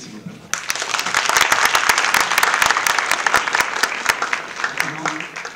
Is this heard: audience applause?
yes